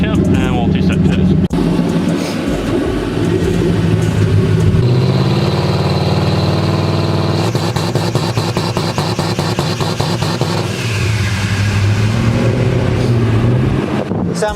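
A drag race car's engine idles and revs while warming up to operating temperature before a two-step test, a loud continuous rumble with rising and falling pitch, with people talking over it.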